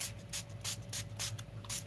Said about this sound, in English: We're gonna use Dilutions sprays